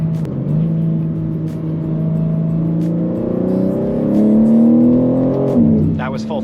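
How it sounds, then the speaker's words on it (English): BMW G80 M3 pulling at full throttle in second gear from a roll, engine note climbing steadily and loud from inside the cabin, with a voice briefly heard near the end. "That was full throttle."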